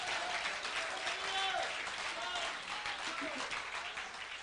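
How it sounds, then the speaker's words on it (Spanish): A church congregation gives sustained applause, a dense wash of clapping that swells and slowly fades, with a voice briefly heard alongside. "Denle un buen aplauso al Señor."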